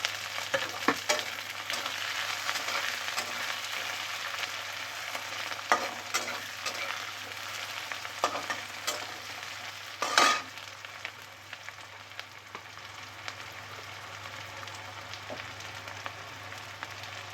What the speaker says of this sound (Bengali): এবার পেঁয়াজ কুচি রেখে এগুলো ভেজে নেবো ভালো করে